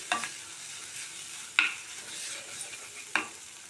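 Mango rice stirred and mixed in a pan, three sharp scraping strokes of a spoon against the metal at roughly even intervals over a faint sizzle, close by, with no talking.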